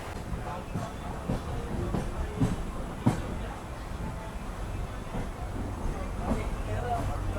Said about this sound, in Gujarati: અત્યારે આપણી ટ્રેન આવી ગઈ છે 10 વાગે અમદાવાદ જંકશન રેલવે સ્ટેશન ઉપર